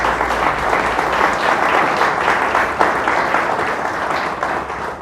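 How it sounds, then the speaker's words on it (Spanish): A church congregation breaks into loud, sustained applause, a thick, even roar of many hands clapping throughout with no break. "Vamos a darle un fuerte aplauso a Dios, ¿verdad?"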